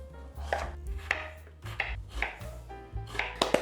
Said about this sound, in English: then I chop them into about the same size cubes, about 1 inch or so